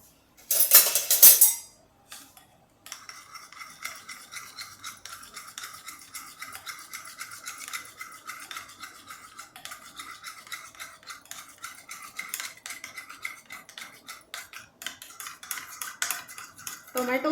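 A spoon mixes tomato sauce and mayonnaise in a bowl, giving steady, fairly quiet scraping and clinking that runs close by for most of the stretch after a brief louder knock at the start.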